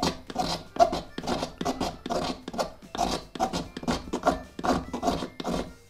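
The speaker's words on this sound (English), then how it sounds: "Creating these heartwood shavings." Knife scraping pitch wood into heartwood shavings, single downward strokes in a steady rhythm of about ten rasping scrapes, close and moderately loud, with no talking.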